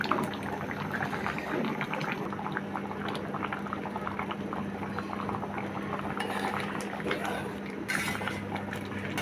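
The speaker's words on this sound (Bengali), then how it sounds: "ঢাকনা দিয়ে দিলাম। চুলার আঁচটা একটু বড় করে দিলাম। আর একটু ফুটাইতে হবে, এখনো ডাউলগুলো হয়নি।" Lentil dal with shrimp, cucumber and tomato boiling in a covered pot on a high flame, producing a steady, dense bubbling and gurgling throughout, close and fairly quiet.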